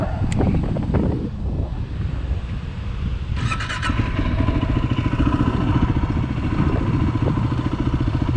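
A Yamaha WR250R motorcycle engine runs steadily while riding, a close continuous drone mixed with buffeting wind noise throughout, with a brief brighter burst partway through.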